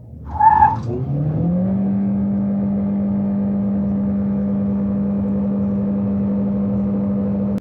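A Chery Tiggo Cross Hybrid SUV, a 2026 self-charging 150kW hybrid in sport mode, launches hard from a standstill, a brief tire chirp giving way to a loud, steady rising whir of acceleration held close by for several seconds.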